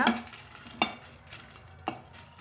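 Dried red chillies and peanuts fry gently in oil, with a soft crackling sizzle broken by three sharp metallic spoon scrapes and clinks against the pan, quiet and close, with no talk.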